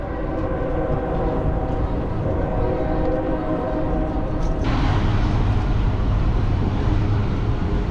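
A train rumbles past in Pittsburgh, a loud continuous roll of wheels and cars nearby, swelling louder and brighter midway as it draws closer.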